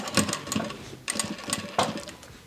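A Vevor industrial sewing machine stitching vinyl, running in short bursts of fast mechanical clatter separated by brief pauses, close and clear with no voices.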